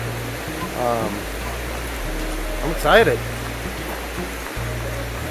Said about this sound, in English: Looks like we're following the river down here.